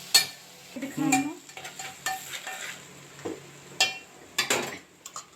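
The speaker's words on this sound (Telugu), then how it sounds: "టొమాటోలు వేసుకొని అది మంచిగా గుజ్జు అయ్యేంత వరకు సిమ్లో పెట్టుకొని కుక్ చేసుకోవాలి" Tomatoes cook down to a pulp on low heat in a pan for palak paneer. Faint sizzling sits under intermittent close spoon scrapes and clinks against the pan, with no talking.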